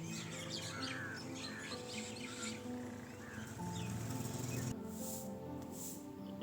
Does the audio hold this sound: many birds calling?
yes